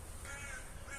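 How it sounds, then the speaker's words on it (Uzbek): Birds calling outdoors in a botanical garden, giving a brief burst of harsh, crow-like calls over a steady background hiss. "Hozir masalan qancha qushlar sayrayapti,"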